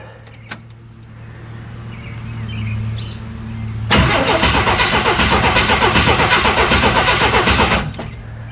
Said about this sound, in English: I'm just gonna see it'll start on its own.